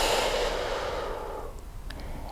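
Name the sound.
deep breathing exhale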